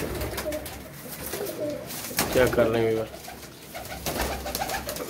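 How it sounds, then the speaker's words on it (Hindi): Pigeons of Teddy, Golden and Sialkoti breeds coo in a loft, soft repeated calls rising and falling close by, with a louder burst midway and someone talking over the birds. "ये कबूतर माशाल्लाह कैसे फिट एंड फाइन कबूतर हैं"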